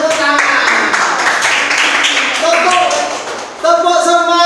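A class group claps together in a steady burst of applause, with a voice speaking over it partway through.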